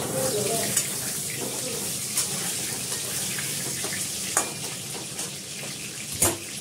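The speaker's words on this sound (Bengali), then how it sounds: "আমি আলুগুলো ভেজে নিচ্ছি মাংসের জন্য, চিকেনের জন্য।" Potatoes frying in hot oil in a pot, cooked ahead for a chicken dish: a continuous loud hiss with occasional clinks and knocks from the utensil.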